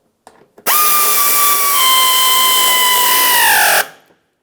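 A power driver runs a 5.5mm mounting screw into a Ford Flex bumper cover, a couple of short taps, then one loud continuous whine of about three seconds that sags in pitch as the screw seats, then stops abruptly.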